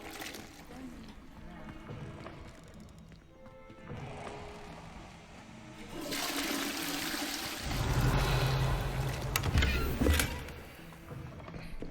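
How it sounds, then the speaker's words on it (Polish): Toilet flushing in the Hogwarts Legacy video game, with a gurgling rush of water that swells in the second half over ongoing background game sounds. "Woda się spuszcza."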